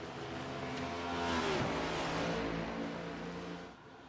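Race cars in the Old Glory Cup Genesis Aviation Series at Watkins Glen roar past with a rising and falling engine whine, fairly faint and distant, steady for a few seconds before fading.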